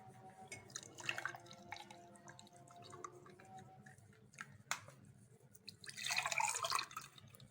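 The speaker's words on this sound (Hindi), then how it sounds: "अब ग्लासेस में ड्रिंक डाल लेंगे।" Green cucumber, apple, ginger and coriander drink poured from a blender jar into glasses, quiet splashing and trickling with small clinks, swelling into a fuller pour near the end.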